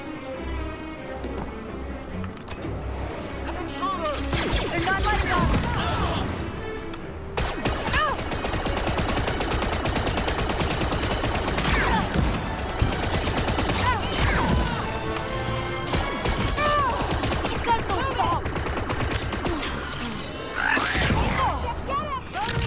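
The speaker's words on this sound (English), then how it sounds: "Oh, I love this rocket launcher." Rapid weapon fire and explosive crashes from a rocket launcher in a Star Wars shooter video game, loud and dense for most of the stretch with near-constant bursts, with voices mixed in.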